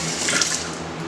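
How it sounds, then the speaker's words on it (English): A brief burst of tap water runs and splashes while something is rinsed in a kitchen sink, with a faint clink. "Now we're gonna go ahead and rinse this off"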